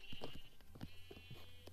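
In a Minecraft session, sheep bleat several times, short repeated calls mixed with game clicks and footstep-like taps over a steady background hum.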